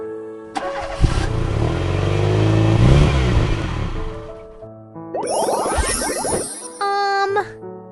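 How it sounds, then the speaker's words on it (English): A car engine starts with a clunk and revs loudly for a few seconds, then a cheerful chiming jingle follows. "Cars."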